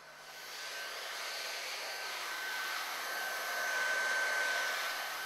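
Heat gun blowing steadily on a molded cable part, a continuous broadband airflow roar with a faint whine that swells slightly toward the end, with no talking.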